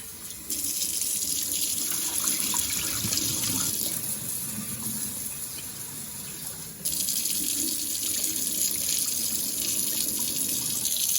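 Running tap water pours steadily into a bowl of rice being rinsed by hand, a continuous close splashing flow with a brief dip midway.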